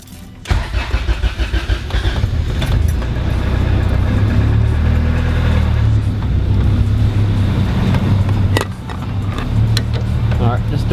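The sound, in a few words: car engine running while warming up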